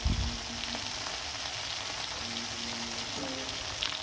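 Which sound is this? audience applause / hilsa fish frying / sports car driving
hilsa fish frying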